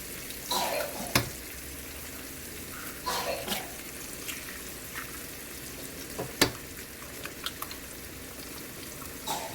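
Eggs sizzle and fry in a hot pan for poha, a faint steady crackle broken by a few sharp clicks of a spoon or spatula against the pan.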